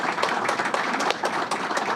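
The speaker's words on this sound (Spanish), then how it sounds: "Un aplauso para todos ellos." Audience applause at a Dominican solidarity-with-Cuba gathering, a steady dense clapping from a crowd lasting throughout, fairly loud and close with no pauses.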